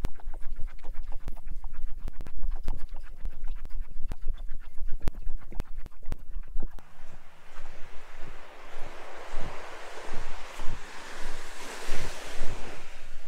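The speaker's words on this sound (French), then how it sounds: "Et voilà la plage." Waves break steadily on a beach on Koh Lanta, a loud continuous surf wash with heavy wind buffeting the microphone throughout.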